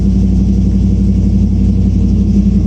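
A 2002 Dodge Durango engine, one with a crank no-start problem, runs close and loud as the gas pedal is pressed, giving a heavy, steady rumble with a low throbbing pulse.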